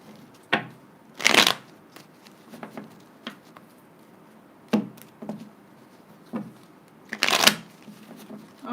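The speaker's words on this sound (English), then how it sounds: "All right, 2 more shuffles." Several rounds of tarot card shuffling come close up: short crisp riffles and taps, with two stronger, longer shuffling bursts standing out against an otherwise quiet room.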